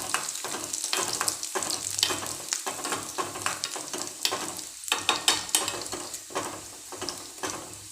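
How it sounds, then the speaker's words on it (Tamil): Curry leaves crackle and sizzle in hot oil for coconut chutney, with a spoon scraping and stirring through the pan in busy, uneven bursts, close and fairly loud throughout. "நல்லா எண்ணெயிலே கிண்டும் போது அந்த கருவேப்பிலை ஸ்மெல் அடிக்கும்"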